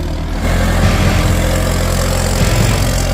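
A diesel tractor engine, working a seven-disc plough to build a road between palm rows, runs at a steady, even throttle with a close, continuous low rumble that holds level throughout.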